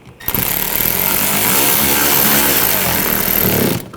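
A power tool whirs loud and steady while it snugs down screws on the belt tensioner of a 2014-2020 Nissan Rogue 2.5L four-cylinder, one continuous run of several seconds that stops abruptly, with no speech.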